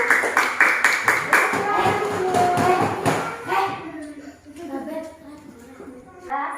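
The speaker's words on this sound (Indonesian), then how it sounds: "Kasih tepuk tangan buat kelompok 1." A group of children in a classroom claps in a quick, steady rhythm for a few seconds, then the clapping fades into scattered taps and children's chatter.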